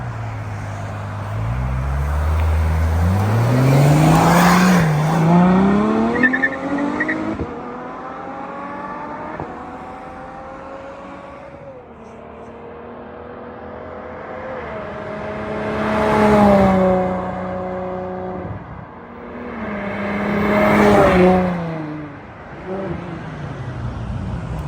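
A yellow 2014 Ferrari F12 Berlinetta roars past several times, its engine climbing and falling in pitch as it accelerates toward the listener and fades away, loud and close on each flyby.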